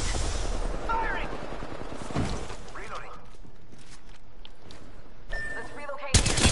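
Gunfire in a PS4 shooter match, rapid bursts of automatic shots in short volleys, mid-distance and fairly loud, with mechanical clicks and a sharp blast near the end; voices talk briefly.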